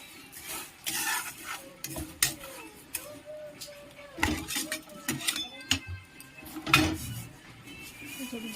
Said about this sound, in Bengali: দেখুন বন্ধুরা, ডালটা আমি ভেজে নামিয়ে নিয়েছি